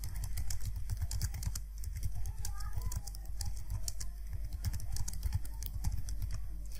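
Someone types on a computer keyboard, a quick irregular run of close clicking keystrokes that goes on without a break, with a faint steady background hum.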